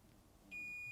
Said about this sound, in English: If there is continuity, the meter will beep.